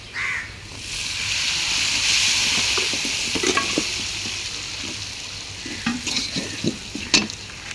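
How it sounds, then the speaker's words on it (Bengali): Sponge gourd and potato frying in hot oil with onion, turmeric and salt, a steady close sizzle with scraping stir strokes and clatter growing busier toward the end, no talk. "এখন সিসিঙ্গাটা দিয়ে দিচ্ছে ভাজির মধ্যে।"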